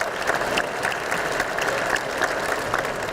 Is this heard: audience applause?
yes